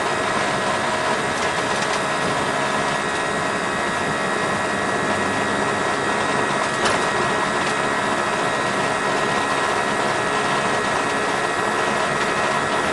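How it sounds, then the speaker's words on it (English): Air suspension compressor running in a VW MK4 car, a continuous buzzing mechanical drone with a faint ticking texture that holds steady throughout, with no voices. "Noisy ass compressor."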